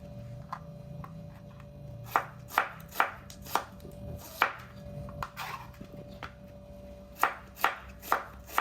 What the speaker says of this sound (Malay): untuk bawang holland sama juga, saya akan potong, saya akan hiris macam ni, bagi separuh